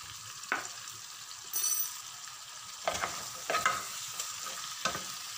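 Spices with tomato and a pinch of salt frying in a pan for spicy chicken, stirred with a utensil that clacks sharply against the pan in a few irregular strikes over a low, steady sizzle; no voices.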